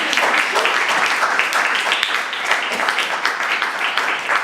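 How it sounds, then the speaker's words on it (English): Applause from an audience at a literary reading event, dense continuous clapping that stays loud and even throughout, heard close with no talk over it. "Now you can clap."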